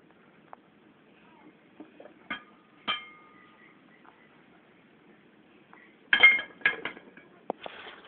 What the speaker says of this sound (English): And I'm going to add them to my pot now